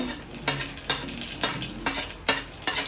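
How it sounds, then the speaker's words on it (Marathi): Whole spices frying in a pan for chicken pulao, with a rhythmic scrape of a spoon stirring about twice a second over a close, crackling sizzle. "पहिला आपण टाकूया सर्व खडे मसाले"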